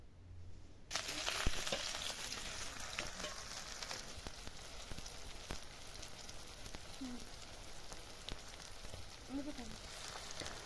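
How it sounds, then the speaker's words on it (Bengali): Chopped onions hit hot oil and fry with a steady, dense sizzle that holds loud and close throughout, broken by occasional stirring clicks. "এরপর আমি এর মধ্যে পেঁয়াজ কুচিগুলো দিয়ে দিচ্ছি"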